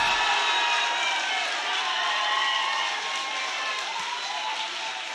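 A dense arena crowd at an Overwatch esports event, the OWC 2019 Atlantic Showdown, roars and cheers continuously after a match win, a steady wash of noise with no break.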